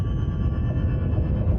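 Underwater earthquake recording: a continuous deep rumble of low-frequency energy, steady and loud throughout, with no distinct onsets.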